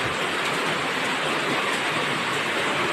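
Rain falls steadily onto a rooftop and the ground below, a dense, constant hiss that stays even and loud from start to finish with no voices.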